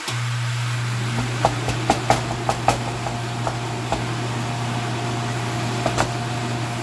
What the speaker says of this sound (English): I'm going to put the fan on